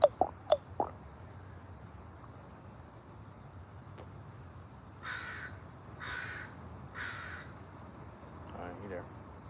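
Crows give three evenly spaced harsh caws at moderate distance, after a few sharp clicks at the start, over a low background rumble of passing traffic.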